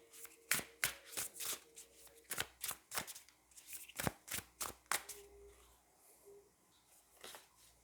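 Tarot cards being shuffled and drawn by hand, a quick series of crisp riffling flicks and slaps that come in bursts, close and fairly loud, with a brief pause near the end.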